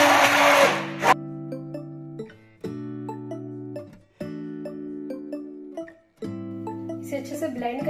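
Boiled mango being blended in a kitchen blender, several bursts of motor whine with short pauses between them, close and fairly loud, a sharp noisy start at the beginning.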